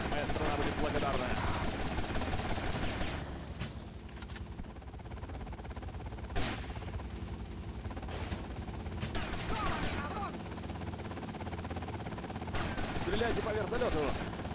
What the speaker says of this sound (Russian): Стреляйте по вертолету!